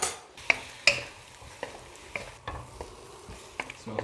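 Lomo saltado being stirred and fried in a pan with aji amarillo, a steady sizzle under a series of sharp utensil scrapes and clacks against the pan, close and moderately loud, with no talk.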